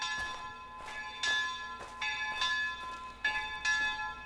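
Church bells toll in the game Mundaun, a series of clear metallic strikes roughly every half second to second, each ringing on with long overlapping resonant tails.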